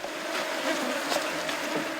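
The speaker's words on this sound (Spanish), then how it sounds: "La nube de moscas en el lugar es agobiante." A dense swarm of flies buzzes steadily over a garbage dump, a loud, continuous droning hum with no break.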